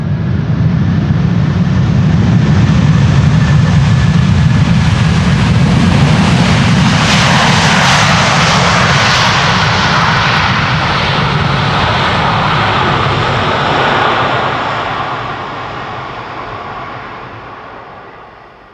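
Airplane landing on the Polderbaan runway 18R at Amsterdam Schiphol, a loud sustained engine roar swelling as it passes close, then slowly fading away over the last few seconds.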